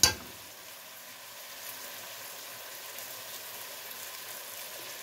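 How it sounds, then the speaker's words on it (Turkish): Red pepper paste spooned into a cooking pot of dried bean stew sizzles with a steady, close frying hiss after a brief clatter at the start; no voices. "Şimdi hemen salçamı ilave edeceğim yemeğime."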